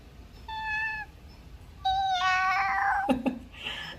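A child imitates a kitten with a short, thin meow, then a longer, rising-and-falling high meow, close and clear, ending with a small breathy sound.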